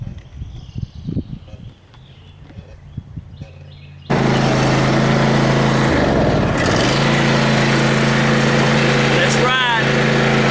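After a few seconds of talking, a riding lawn mower engine starts and runs with a loud, steady droning roar that stays close and constant to the end.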